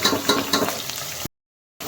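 Onion pieces with cloves, cardamom, bay leaf and shahi jeera frying in hot oil give a loud close crackle and sizzle that cuts off abruptly, then returns.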